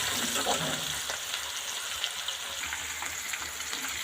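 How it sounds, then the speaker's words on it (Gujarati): Crushed garlic, green chilli and cumin fry in hot oil, making a faint, steady sizzle with occasional scrapes of a stirring spoon and no voice over it. "ચમચા વાળાને મસ્ત મજાનું હલાવી લેશું"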